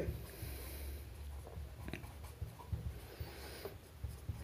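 Math being written by hand on paper during a Bengali class 7 lesson, with faint, soft scratching pen or pencil strokes that come and go at close range against quiet room noise and no talking.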